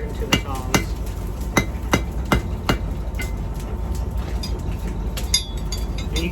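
A steel bar is hammered into a taper for riveted tongs, about a dozen sharp, ringing hammer blows at an uneven pace, close by over a low background hum.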